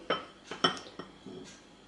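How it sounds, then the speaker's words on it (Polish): Yeast being mixed with sugar in a bowl, heard as several light metallic clinks and taps of a spoon against the dish, close and fairly quiet, with short pauses between strokes. "drożdże mieszamy z cukrem"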